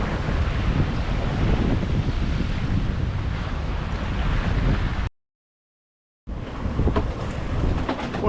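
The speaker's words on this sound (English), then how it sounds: "getting more wind than what was on the forecast maps" Strong wind buffets the microphone aboard a sailboat under way in the evening, a loud, constant roar mixed with rushing water, cut off by a brief silence before resuming.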